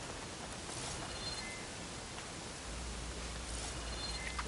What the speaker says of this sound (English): Had to be raining just to make it extra hard to find her.